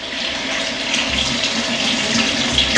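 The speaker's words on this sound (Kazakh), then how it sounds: "су ағып жатыр мына жерде." Water runs from a tap in a steady, close, continuous rush with no pauses and no voices.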